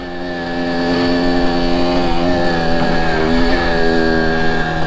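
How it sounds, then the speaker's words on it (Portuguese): A Kawasaki KX85 two-stroke dirt bike engine idling and buzzing steadily, with slight wavering in pitch, close by and continuous with no talk. "Meu, que motinha legal essa Kawasaki."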